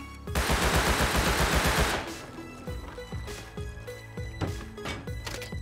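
A dense, loud burst of automatic gunfire pours into a tool cupboard in the survival game Rust for about two seconds, then gives way to scattered single shots and clattering impacts spaced through the rest.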